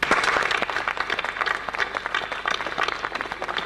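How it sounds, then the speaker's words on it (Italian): Audience applause at a book presentation, dense and lively clapping from many people that stays strong and fairly close, with some uneven swells throughout. "vi pregherei di aggiungervi a me con un applauso"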